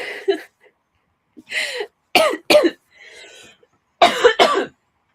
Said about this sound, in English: I've been coughing like mad.